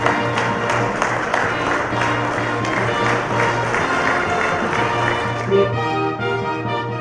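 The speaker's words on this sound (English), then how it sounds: "Ladies and gentlemen, let's have a huge round of applause to welcome our guest of honor, Shri Eknath Shinde, Honorable PWD Minister," Applause greets the guest of honor at a construction industry awards ceremony, a dense steady wash of clapping mixed with a sustained musical tone throughout.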